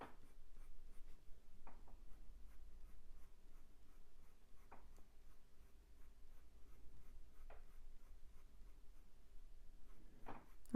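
A pencil draws short fur lines for a ginger tom cat on paper, making quiet, close, continuous scratchy strokes with a few sharper ticks, and no voices.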